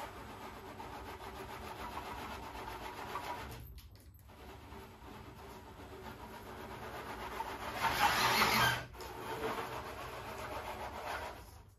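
An Absima Sherpa RC crawler fitted with a Quicrun 1080 ESC climbs a plank, its electric motor whirring steadily and close by, with a brief pause and a louder strained surge near the end. No one speaks.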